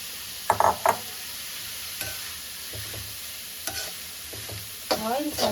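Cabbage and other vegetables stir-fried in a little oil for momo filling, with scattered bursts of sizzling and scraping stirs across the pan, loudest near the start and end.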